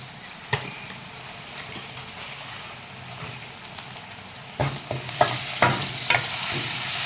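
Masala Maggi noodles with mutton masala fry in a pan, a steady close sizzle joined by louder scraping stirs toward the end, with no talking.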